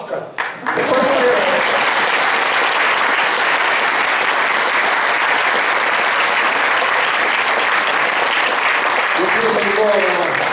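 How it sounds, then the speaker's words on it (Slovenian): Concert audience applauding steadily at an accordion school concert, a dense, loud sustained clapping that fills the whole stretch, with faint accordion-like tones briefly at the start and end. "Zdaj, to ploska."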